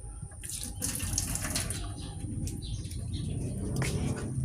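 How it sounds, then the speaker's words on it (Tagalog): Tap water runs steadily into a kitchen sink while hands are washed under it, a continuous close splashing hiss with faint birds chirping in the background. "Wash muna ako ng hands."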